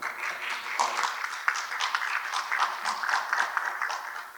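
A seminar audience at a university applauds to welcome a lecturer: a soft, continuous patter of many hands clapping at a distance, even in level throughout.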